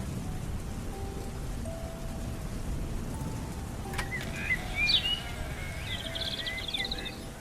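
Steady rain falls throughout, a continuous soft hiss with a brief crack near the middle and faint chirping birds in the background.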